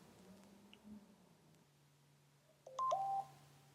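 A mobile phone's alert sounds as a short electronic tone burst, brief and fairly close, after a quiet stretch of low hum.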